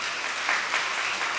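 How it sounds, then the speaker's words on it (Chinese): Church congregation applauding to welcome a newly introduced woman visitor: steady, even clapping from the crowd that runs unbroken from start to finish at moderate loudness, with no voices over it. "来我们掌声欢迎她"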